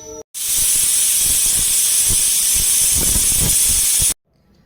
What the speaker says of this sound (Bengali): প্রেসার কুকারটা বন্ধ করে দুটো সিটি দেবো